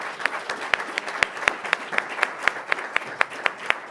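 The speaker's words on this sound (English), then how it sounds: "please give me a round of applause for our rock star panel up here" Audience at a panel event on housing insecurity and affordability applauding the panel, a moderate, steady round of clapping with a few sharp, distinct claps standing out above the crowd.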